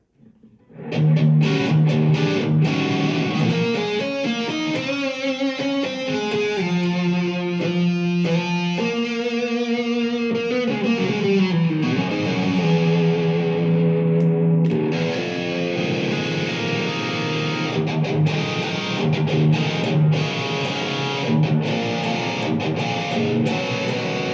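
An electric guitar played through a compact 10-watt Blackstar ID Core Stereo 10 V3 amp with heavy distortion, strumming sustained chords and riffs loudly and continuously with no talking.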